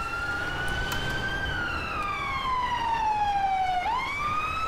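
A wailing emergency siren from an ambulance in GTA 5 sweeps slowly down in pitch, then jumps back up, loud and steady against a dense background of game noise.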